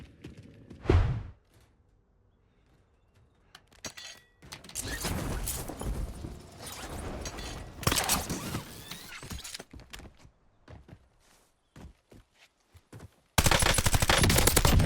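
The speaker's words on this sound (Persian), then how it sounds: "چقدر حال میده با این تیر زدن آجی" Gunfire from the video game Modern Warfare 4: a sharp opening shot, then long stretches of loud, dense automatic fire with short gaps, ending in a final harsh burst.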